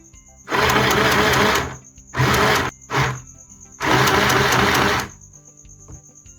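A mini sewing machine stitches fabric in several bursts of rapid, steady whirring and clicking, loud and close, separated by brief pauses.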